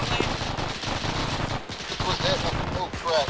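Heavy automatic gunfire in ArmA3, dense overlapping machine-gun bursts rattling continuously throughout, loud and close, with scattered shouted voices mixed under the fire.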